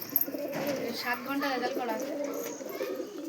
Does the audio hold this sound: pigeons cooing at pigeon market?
yes